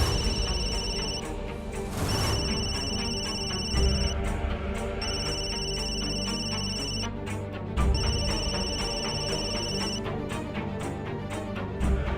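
A telephone rings over and over in repeated electronic bursts, loud and close, with no one answering.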